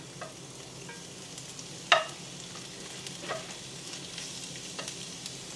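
Carrots frying in a thin layer of oil in a pan while making bibimbap give a steady, faint sizzle, with a single sharp clack near the middle and a few softer ticks.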